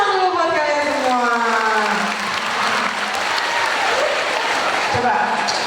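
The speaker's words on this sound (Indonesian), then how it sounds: "Tepuk tangan dulu buat kalian semua." A loud crowd of school students claps and cheers in a school hall, the noise sustained and dense for the whole stretch, with a voice ringing over it at the start.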